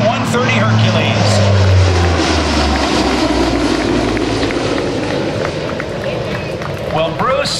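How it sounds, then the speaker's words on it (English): Canadian Forces CC-130 Hercules four-engine propeller aircraft flying at an air show, a loud droning propeller roar passing nearby and slowly fading, with crowd noise beneath it. "Ladies and gentlemen, the Canadian Forces CC-130 Hercules."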